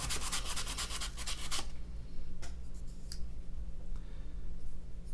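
Coarse-grit sandpaper scrubs rapidly across the back of a knife blade in close, dense rasping strokes for a second or so, then a few sparse scuffs over quiet room noise.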